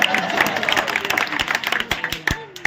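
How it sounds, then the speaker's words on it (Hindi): Audience at a Hindi poetry gathering (kavi sammelan) in Gogunda clapping: sharp, scattered claps in an uneven rhythm, with voices mixed in underneath, across a few seconds. "समझ में है कि ताली बजाओ"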